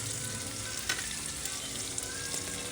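Tomatoes cook in a pan with a soft, continuous sizzle and bubble, faint and steady with a few small pops.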